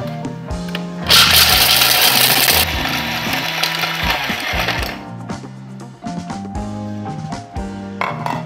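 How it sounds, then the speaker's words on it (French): A Thermomix grinding pre-cut pieces of dark chocolate, a loud rattling whir that surges for a couple of seconds, then settles into uneven chopping and clattering bursts before slowing and stopping. "je commence par broyer le chocolat noir dans le Thermomix"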